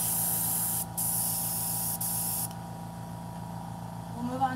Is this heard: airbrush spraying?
yes